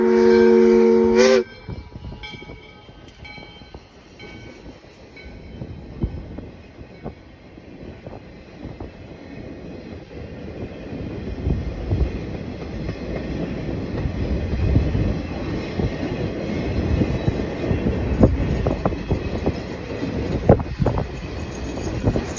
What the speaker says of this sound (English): we raced over to Rogers Road to get the train passing